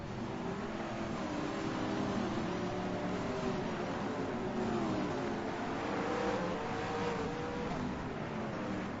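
V8 touring race cars stream through the chicane at Surfers Paradise, a dense, steady roar of several engines blending together at a distance, continuous for several seconds with no voices.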